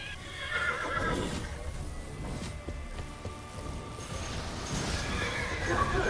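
A horse neighs and whinnies in a video game, a loud, drawn-out call with hoofbeats and busy game sounds around it.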